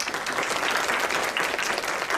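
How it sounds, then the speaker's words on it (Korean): An audience at a startup conference panel session applauds, a continuous dense patter of many hands clapping at even loudness throughout. "박수 부탁드리고요"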